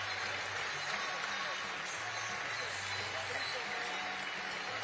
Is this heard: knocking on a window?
no